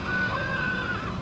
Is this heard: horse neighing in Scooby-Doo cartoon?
yes